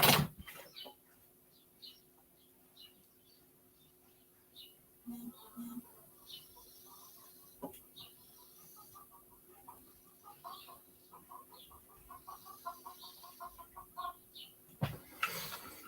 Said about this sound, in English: Yep, birds are going bonkers.